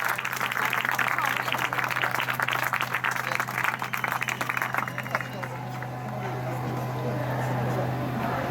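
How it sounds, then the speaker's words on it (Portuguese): An outdoor crowd at a vigil for children in front of Portugal's parliament applauds steadily for several seconds, the clapping thinning and fading toward the end over a low steady hum. "Mas para o António Maria Pinheiro Torres, gostava de uma especial salva de palmas e um agradecimento especial."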